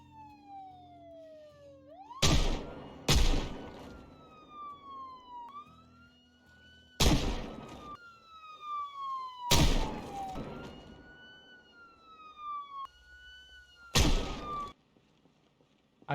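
Police car siren wailing in Project Zomboid, set as a trap to draw zombies, rising and falling in long sweeps and restarting several times, broken by loud thudding gunshots.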